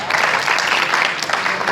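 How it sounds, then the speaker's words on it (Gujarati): Loud, dense applause from an audience at a spiritual motivational gathering with monks, steady and continuous throughout with no pauses. "જોરદાર તાળીઓથી વધાવી લઈએ."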